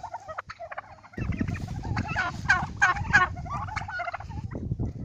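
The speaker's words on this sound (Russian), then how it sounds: "И один индюк. Все, индюшки." A flock of turkeys gobbling close by in rapid, rattling bursts at a petting zoo farm, with a bustle of farmyard noise around them.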